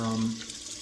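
Water runs from a tap during washing, a brief close splashing hiss that eases off slightly, with no talk.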